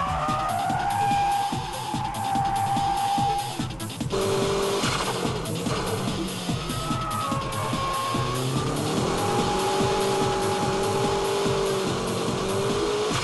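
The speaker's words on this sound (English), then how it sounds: "You can see he's controlling the drift without opening the gas all the way." A drifting car's engine drones and shifts pitch as the driver works the throttle and e-brake, with sustained tire squeal layered over a continuous mechanical roar.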